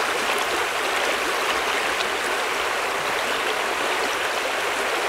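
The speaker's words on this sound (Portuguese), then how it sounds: "Sertanejo, ao ver o rio correr, se anima." Water of the Paramirim river rushes in a steady, dense stream, loud and close with no pauses and no voices.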